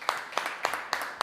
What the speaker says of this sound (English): Give the teams another round of applause